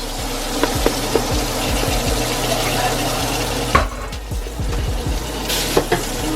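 Vegetables hit hot oil in a pot for collard gumbo and sizzle loudly and steadily, with scattered clinks and stirring scrapes close by and a brief surge of crackle midway.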